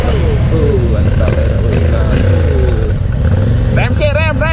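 A Yamaha T-Max scooter on a test ride, its engine droning loud and close with wind rush, rising in pitch as it revs near the end, while a rider talks over it.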